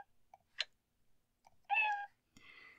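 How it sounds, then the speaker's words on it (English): A cat meows once, a short clear mew, as a sound effect in the video game Exile III, preceded by a few faint clicks and followed by a rougher, noisier burst in an otherwise quiet clip. "And this is not Garnet, this is a sound file in the game, doing the meows."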